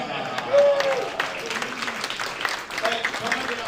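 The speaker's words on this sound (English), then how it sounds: "Round of applause." Applause from the audience at a San Francisco tech demo night, a moderate patter of clapping lasting a few seconds with voices talking over it.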